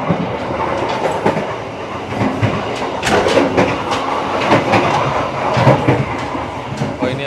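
Inside the dining car of a moving Kamandaka executive-class train between Cilacap and Semarang, a loud continuous rumble with rhythmic clacking of wheels over the rails, rattling and shaking close around the listener.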